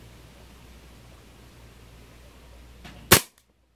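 A single sharp shot from an Umarex Beretta M9A3 4.5 mm CO2 blowback BB pistol firing 0.32 g steel BBs. The close, loud crack stands out against a quiet hiss and cuts off quickly.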